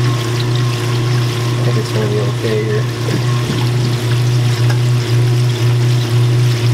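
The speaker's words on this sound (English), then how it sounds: "You can hear the water going down the sewer line here." Water runs down a sewer line in a continuous rushing flow over a steady low hum, while someone speaks briefly.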